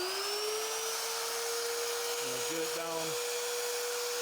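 Vevor magnetic drill motor running with an annular cutter fitted, a steady high electric whine held throughout, with a brief lower droning tone partway through, close and moderately quiet.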